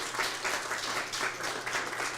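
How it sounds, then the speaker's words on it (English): A crowd at an evening gathering with two university presidents gives a steady round of applause, a soft, even wash of many hands clapping at a moderate distance without pause. "Let's give them a round of applause."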